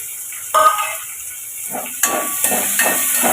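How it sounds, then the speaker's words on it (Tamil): Onions for a soya pepper fry sauté in oil in a pan; a sudden burst of hissing sizzle is followed by a few quick stirring scrapes and clinks, close and brief, with no voices. "இப்போ இதை நம்ம வதக்கி எடுத்துக்கலாம்"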